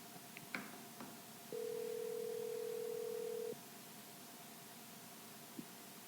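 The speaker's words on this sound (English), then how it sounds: "We're going to see if we can get him on the phone right now." A phone call being placed: a few faint clicks, then a steady two-second ringback tone, followed by a quiet pause and a single click as the line connects.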